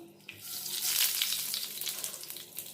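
Mustard seeds, urad dal, chana dal and cumin sizzle in hot oil in a pan, a bright steady crackle that swells and then settles, with no talking.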